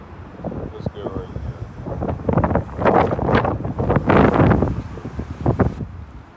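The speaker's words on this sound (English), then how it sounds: "Dang, it's windy" Strong wind blows outdoors at a campsite, roaring and buffeting the microphone in surging gusts that build toward the middle, loud and close, with no clear talk.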